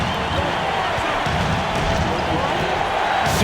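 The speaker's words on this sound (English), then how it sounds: "you gotta love hearing a crowd get this fired up." A basketball arena crowd roars continuously after a big shot, a loud sustained wash of cheering and noise with no breaks.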